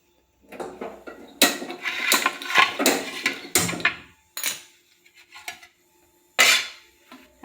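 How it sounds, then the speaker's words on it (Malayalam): Guava, mango and tulsi leaves dry-roasting in a metal frying pan bring a series of close, loud clanks and scrapes in uneven bursts, separated by short quiet gaps. "ഈ ഇലകളെല്ലാം ഒന്ന് വറുത്തെടുക്കാം."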